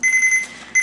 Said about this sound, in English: We have mere seconds until the timer goes off.